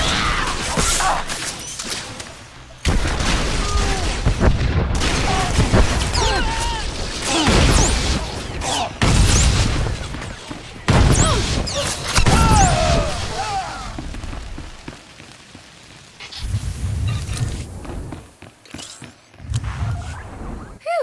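Video game firefight with gunfire and explosions, loud bursts and crashes in irregular clusters interspersed with shouting voices and brief quieter gaps.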